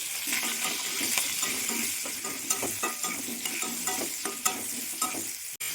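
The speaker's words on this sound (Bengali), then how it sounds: "প্রথমেই আমি আলুগুলো ভেজে নেব।" Potatoes frying in oil with salt and turmeric in a pan, a steady close sizzle broken by repeated scraping stirs and light clinks of the utensil against the pan.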